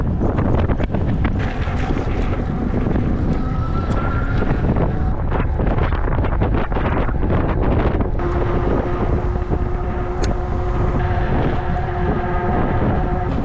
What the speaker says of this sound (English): The wind is starting to blow really hard.